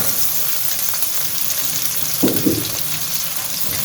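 Green chilies frying in a pan, a constant close sizzle with a couple of brief louder clatters from stirring partway through.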